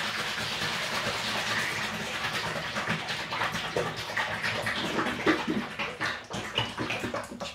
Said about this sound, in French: Je vais faire ça et mélanger énergiquement.